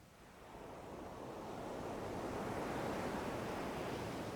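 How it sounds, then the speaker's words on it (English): Ocean surf washes onto a sandy shore as a steady broadband roar that swells gradually louder and stays constant, with wind noise and no voices. "The sound of waves has grown in intensity, washing over you"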